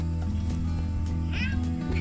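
A single gray cat's meow rises briefly over a steady low hum on a farm, fairly close but not loud.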